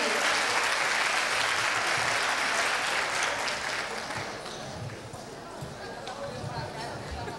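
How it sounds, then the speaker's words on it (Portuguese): Applause from a crowd at a family celebration during a Cabo Frio holiday gathering, dense and continuous clapping for the full stretch, loud throughout and easing slightly toward the end. "eu gostaria de uma salva de palmas"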